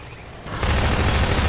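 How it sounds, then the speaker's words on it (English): Automated turrets in the video game Half-Life 2 open fire, a sudden dense burst of rapid gunfire that swells loud after a quieter moment and keeps rattling steadily. "Why do these turrets suddenly start shooting?"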